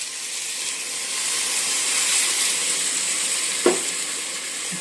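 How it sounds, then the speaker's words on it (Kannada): Ridge gourd masala in a pan hisses and sizzles steadily as water rinsed from the mixer jar is added, with a brief clunk of a utensil near the end and no talk. "ಇವಾಗ ಇದಕ್ಕೆ ಮಿಕ್ಸಿ ತೊಳೆದು ಸ್ವಲ್ಪ ನೀರು ಹಾಕೋಣ."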